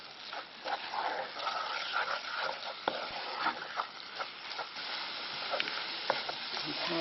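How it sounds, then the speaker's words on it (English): Flour cooks in a pan for a curry sauce while being stirred constantly: a steady, soft sizzle runs throughout, with scraping spoon strokes against the pan bottom and a few sharper taps. "keep stirring it"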